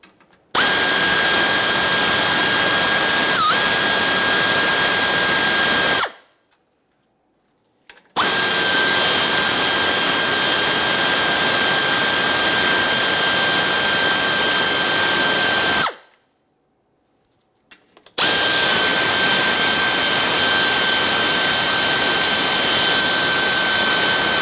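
Power tool spinning out 7mm headed bumper cover mounting bolts on a 2017-2024 GMC Acadia, three loud sustained high-pitched whirring bursts of several seconds each, separated by short silences.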